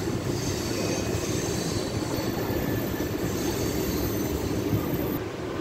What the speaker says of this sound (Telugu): ఒక గూడ్స్ రైలు వస్తుంది మెల్లగా